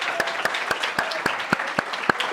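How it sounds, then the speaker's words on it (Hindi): A rhythmic, evenly spaced clapping, about ten strong claps in a steady beat over a softer layer of applause, from an audience at a NEET exam results celebration in Nagpur. "और उनके लिए एक बार जोरों से तालियां हो जाए।"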